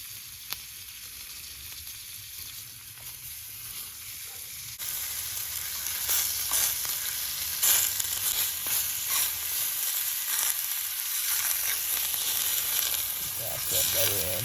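A steak frying in butter on a hot plate during a Montana winter overnight camp: a constant hissing sizzle that swells louder about a third of the way in and stays strong, close and with no talk.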